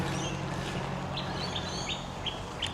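Small birds chirp in short, high, repeated calls along a river, faint over a steady outdoor background rush, several quick chirps spaced through the second half.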